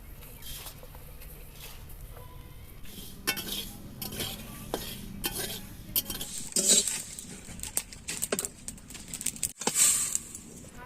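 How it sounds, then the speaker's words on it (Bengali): Panch phoron spices, black mustard, coriander, carom, dry chilli and cumin, dry-roasting in a pan, heard as scattered clinks, rattling seeds and scraping stirs with faint crackle, louder bursts toward the end. "বন্ধুরা এবার এই মশলাগুলো ভেজে নেব।"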